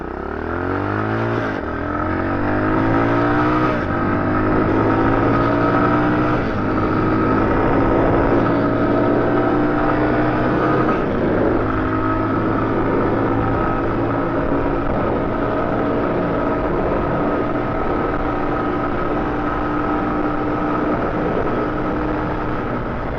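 A Tao TBR7 dual sport motorcycle accelerates hard from a standstill toward 60 mph, its engine note climbing repeatedly and dropping at each gear change, then droning at speed for the rest of the run.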